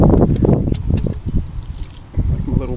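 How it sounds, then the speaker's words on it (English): Water thrown from a bucket onto shade flowers planted beside a garage, arriving as a run of close, splashy pouring bursts that fade briefly before one last gush. "Let's throw some water on there."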